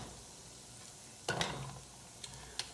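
Garlic toasts in a pan with a soft, steady sizzle, close and low, broken by a few light scraping stirs and small clinks.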